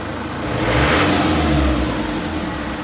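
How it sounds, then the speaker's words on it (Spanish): A turbocharged car engine revs up from idle, a rising mid-pitched roar that swells and then eases back, loud and close. "vamos a acelerar un poco a ver qué pasa si sube el del turbo"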